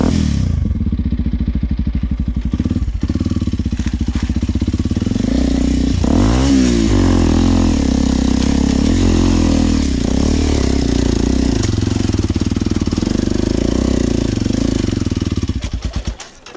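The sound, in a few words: motorcycle engine revving while climbing a steep hill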